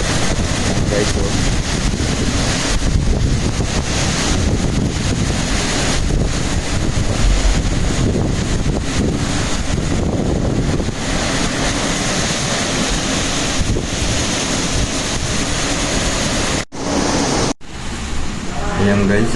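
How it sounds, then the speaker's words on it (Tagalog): Strong wind gusts against a house window during a storm, a steady loud rushing roar that fills the clip, with a person speaking over it before it cuts out briefly near the end. "at nasipol ang hangin, sumisipol dito sa bintana."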